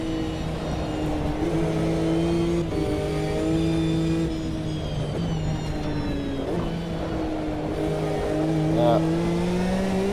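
GT2 race cars on wet tyres in a historic endurance racing video game, engines droning and shifting pitch steadily throughout with occasional gear changes, a voice briefly heard over them.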